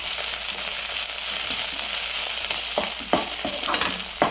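Cashew nuts roast in hot oil for jeera rice, producing a steady, close sizzle that gives way to several sharp stirring scrapes toward the end.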